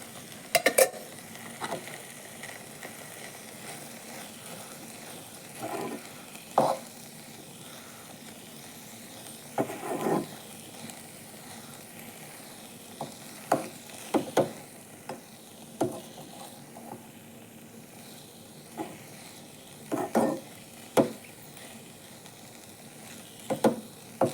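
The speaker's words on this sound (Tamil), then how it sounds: "இன்னும் கொஞ்சம் நேரம் வதக்கிக்கலாம்" Peanuts and a mixture sauté in a pan with a faint, low sizzle, broken by scattered sharp scrapes and clinks of a spoon against the pan, close but fairly quiet with no speech.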